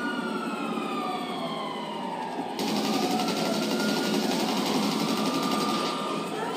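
Helicopter in Grand Theft Auto Online, a steady loud mechanical whir with rising and falling tonal sweeps that grows louder and denser halfway through, continuous without talk.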